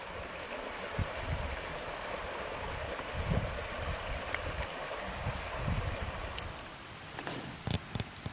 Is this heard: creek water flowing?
yes